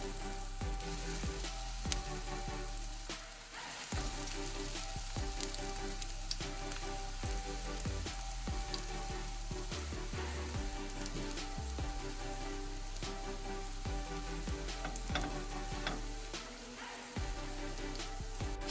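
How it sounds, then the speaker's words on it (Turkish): Steady crackling sizzle of bread slices frying in hot oil over medium heat, continuous and close, with occasional clinks and stirring sounds. "Altını orta ateşe getiriyoruz ve ekmeklerimizi kızartacağız."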